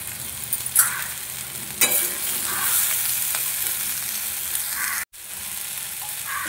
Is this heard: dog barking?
no